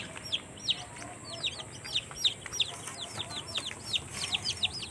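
Many short, bright chirping calls repeat throughout over steady background noise, chicks and hens in a coop peeping and clucking together nearby.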